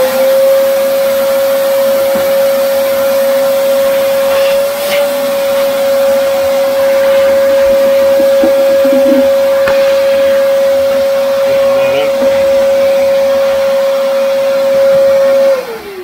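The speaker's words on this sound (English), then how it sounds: "Take your vacuum." A vacuum cleaner runs steadily while cleaning a Harman combustion motor, a loud, close, continuous whine with a constant pitch, then winds down at the end, with no talking over it.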